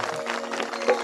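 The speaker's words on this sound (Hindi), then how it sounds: "इनका लिए मैं एक बार जोरदार तालियां चाहूंगा।" An audience claps steadily at a Durga temple jagran, a dense even patter of applause throughout with no breaks.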